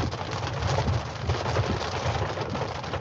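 Heavy rain pours steadily outdoors, a dense, continuous hiss of drops striking surfaces with no breaks and no voices.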